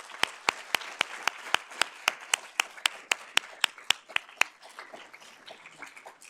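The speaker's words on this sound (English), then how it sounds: "So let's give a round of applause for that." Clapping for a 45th reunion class at a school of management colloquium: sharp, evenly spaced claps at a brisk steady rhythm for about four seconds, then a softer, scattered tail.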